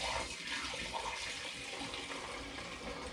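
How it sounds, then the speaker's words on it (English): Hard cider is poured back into a glass demijohn, making a steady, faint, continuous trickling rush with no talk over it. "I'm now going to pour this back into the Demijohn just so it's better protected from contamination."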